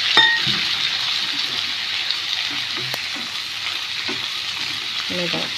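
Onion, chillies and tomato fry for pav bhaji in a hot pan, a loud, steady hissing sizzle throughout, with a faint clink of a utensil near the end.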